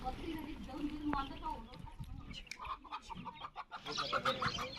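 Chickens cluck nearby while a person speaks over them, with a few sharper bird calls near the end.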